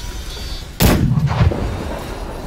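A cannon in the video game Deathloop fires a single loud, close boom that rolls off into a short decaying rumble, with no talking.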